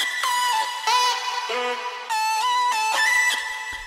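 Distorted vocal chops in a melodic bass track, clipped pitched syllables in a choppy rhythmic pattern whose level swells and dips under volume automation, played alone with no other elements.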